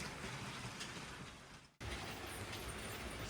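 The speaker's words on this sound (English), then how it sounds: "switch down there for the T-junction to bring the trolley through the rail yard and then out back onto the inner main line" LEGO train with five cars rolling through a rail yard on a model layout, a steady near clatter of wheels over track with a brief dropout midway, no talk.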